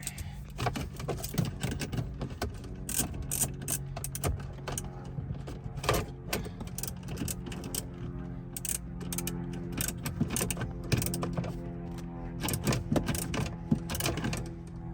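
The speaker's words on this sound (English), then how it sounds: "You can finish it off with the ratchet." A ratchet tightens bolts on a phone mount inside a 2021 Toyota Sienna, producing rapid, repeated clicking bursts in uneven rhythm, close and moderately loud against a faint low hum.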